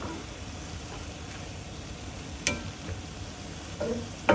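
Sayote, cabbage and sitaw are stirred together in a pan, with a soft, continuous sizzle and scraping and a few light clinks of the utensil against the pan.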